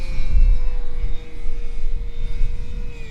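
Dynam Tucano RC model airplane with full flaps on landing approach, its electric motor holding a steady, fairly loud whine under power with a faint propeller drone, no talk.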